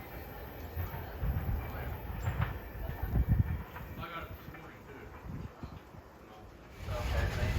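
An excursion train with the New York Central car Hickory Creek at the rear rolls past, a steady rumble of wheels with rhythmic clacking over rail joints at moderate distance and a faint high whine overhead.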